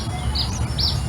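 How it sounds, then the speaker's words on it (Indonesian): Birds chirp faintly in the distance, a few short high tweets over a steady low background hum, with no talking. "Rasa tenang ya, mendengar kicauan burung, desiran angin dirasakan."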